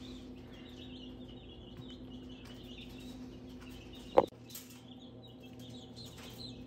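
Baby chicks in a GQF universal box brooder give faint, high peeping over a steady low heater hum, with one sharp knock partway through.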